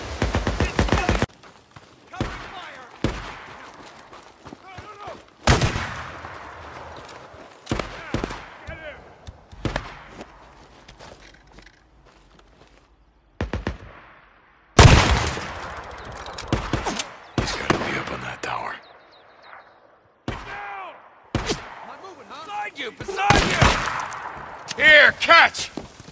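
Gunfire in the Days Gone video game: sharp shots and rattling bursts, some near and loud, spread irregularly across the span between quieter gaps, with shouted voices in between.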